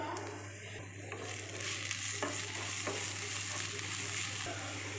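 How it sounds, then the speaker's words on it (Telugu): Turmeric, salt, chili and garlic being stirred into a frying curry of amaranth leaves, a steady sizzle with soft scraping strokes and occasional clicks of a spoon against the pan, close and fairly quiet. "పసుపు సాల్ట్ కారం ఎల్లిపాయలు వేసుకొని అన్నీ కలుపుకోవాలి"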